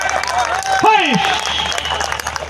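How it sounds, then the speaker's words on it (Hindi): An audience claps at a Hindi poetry gathering, with dense, continuous applause and crowd noise filling the space and a brief voice rising over it partway through. "अब ताली बजाओ, दोनों हाथ खड़े करके।"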